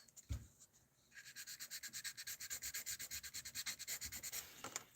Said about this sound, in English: Oh yeah, the sanding.